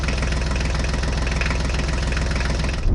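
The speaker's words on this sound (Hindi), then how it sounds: "उनका डीजल इंजन नॉइजी था" A loud, steady Honda diesel car engine idles with a rough, rattling diesel clatter throughout, running alone at close range.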